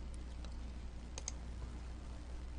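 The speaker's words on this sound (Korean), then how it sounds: "키보드를 이용하는 건데요. Shift를 누르게 되면" A computer keyboard's Shift key is pressed, giving a couple of soft, faint clicks around the middle against a quiet, steady background hum.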